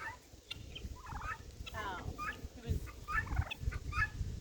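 Turkeys gobbling on a ranch with a colt and a dog nearby, several quick rattling gobbles in short bursts, fairly faint and outdoors.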